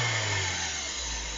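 Opel Corsa B 1.4 engine running steadily just after a timing belt repair, a continuous low mechanical drone with a slight drop in pitch, close and alone with no talk.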